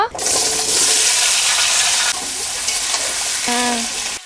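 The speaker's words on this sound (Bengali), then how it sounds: "মাছ ভাজার তেলে মান কচু ভেজে নেব" Pieces of taro hit hot oil left over from frying fish and sizzle loudly and continuously up close, with a brief stir and clatter near the end.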